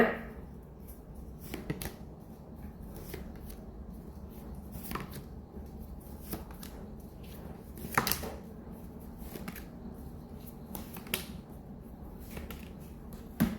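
Tarot cards being split into four piles on a table, with a run of soft card clicks, taps and shuffling rustles at close range over a low steady background hum, with no talking.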